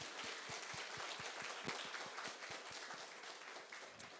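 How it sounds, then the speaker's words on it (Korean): A church congregation at a Sunday worship service applauds, quiet and somewhat distant, with a dense wash of clapping and a few sharper individual claps in a loose rhythm. "우리 큰 영광의 박수 올려드렸으면 좋겠습니다"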